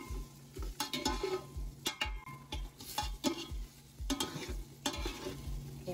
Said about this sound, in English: We're gonna let it saute on low. Get that cooking real good.